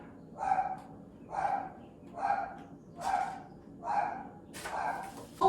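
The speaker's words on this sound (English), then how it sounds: "Dog's going crazy." A dog barks indoors in a steady rhythm, six evenly spaced moderately loud barks spread over a few seconds against quiet room tone.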